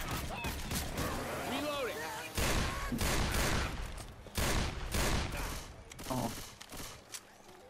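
Gunfire in Left 4 Dead 2 on a road level crackles in loud, repeated bursts of rapid shots, mixed with game sounds and voices talking over the action.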